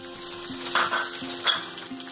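Vegetables frying in a pan for shavige uppittu, a close, continuous sizzle with a few bursts of stirring and scraping over a faint steady hum, with no talking.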